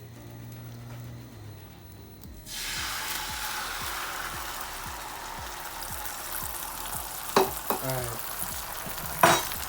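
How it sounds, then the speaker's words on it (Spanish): Eggs cooking in butter in a frying pan, a quiet background hum giving way to a loud, steady sizzle with scraping and a few clinks of a utensil; one short spoken word from a voice. "Vierte los huevos y cocina por 4 minutos."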